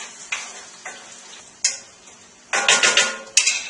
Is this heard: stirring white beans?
yes